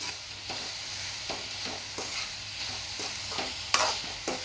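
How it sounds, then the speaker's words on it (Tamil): Jaggery and coconut filling for kozhukattai being stirred in a pan over a high flame, a steady soft sizzle under repeated rhythmic spoon scrapes, fairly close and with no voices. "அந்த டயத்தில் அடுப்பை கொஞ்சம் ஹை ஃப்ளேமில் வச்சுட்டு நல்லா கிண்டி விட்டுக்கலாம்"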